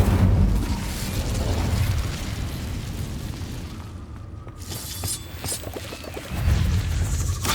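Fiery spell blasts and crashing impacts from Hogwarts Legacy combat, with dense rumbling bursts at the start and again near the end and a brief lull in between.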